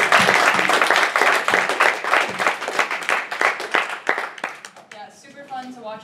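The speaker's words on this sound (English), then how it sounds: "round of applause for everyone." A crowd at a Docker hackathon breaks into loud, close applause that stays dense for about four seconds and then thins out into scattered claps as voices start talking.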